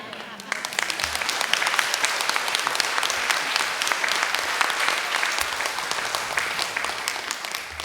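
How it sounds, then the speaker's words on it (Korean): A church congregation applauds during a Korean Sunday worship service, a steady, full round of clapping from a large room that continues evenly throughout, with a voice faintly present beneath. "지금 어디다가 박수를 친 거예요?"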